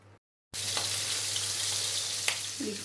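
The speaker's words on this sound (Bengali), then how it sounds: "তেল দিলাম, আগে ইলিশ মাছের মাথাটা একটু ভেজে নিব" A hilsa fish head sizzles loudly in hot oil in a home kitchen pan, a steady crackling fry with a few sharp pops, with no talking.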